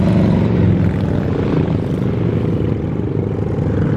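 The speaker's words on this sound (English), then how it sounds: "Man, those motorcycles are really loud." Loud, continuous engine roar fills the whole stretch, a heavy rumbling drone that stays steady as motor vehicles pass close by.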